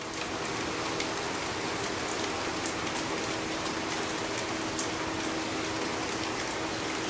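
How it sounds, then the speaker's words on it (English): Steady rain pours down outdoors at an auto body repair spot with no shop, a dense continuous hiss of drops striking surfaces at close range with no pauses. "getting rained out here."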